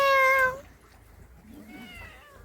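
A cat in a village gives one loud, close meow lasting about half a second, followed by quieter low background sounds.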